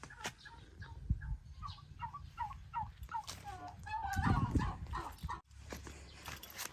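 Turkeys gobble on a Filipino backyard vegetable plot, a series of short rhythmic calls over about seven seconds, fairly close, with a louder rustling burst near the end.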